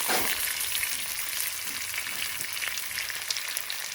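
Ginger, garlic and green chilies stir-fry in a hot pan for a chicken chilli fry, giving a steady bright hissing sizzle with a few small crackles, close and without talk.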